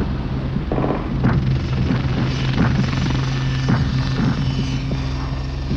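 Westland 30 helicopter carrying mortar troops, its rotor and engine giving a continuous loud drone with a steady hum and repeated thumping blade pulses throughout.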